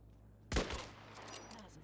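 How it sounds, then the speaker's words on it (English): Gunfire in the video game Islands of Nyne: a sudden loud burst of shots that quickly settles into a dense, rattling tail, with faint game noise continuing afterward. "Why was he shooting me right now?"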